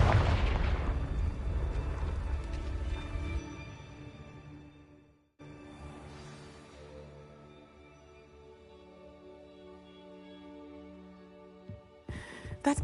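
The Confringo fire curse bursts in the video game Hogwarts Legacy, a heavy booming explosion that rumbles and fades, followed by a lingering low roar and another sharp burst near the end.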